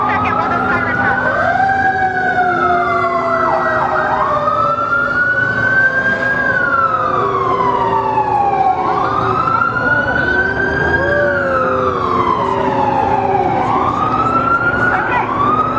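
A wailing emergency vehicle siren sweeps up and down in long, loud cycles as it passes an outdoor Occupy Portland meeting in Portland, with traffic rumble and murmured voices beneath.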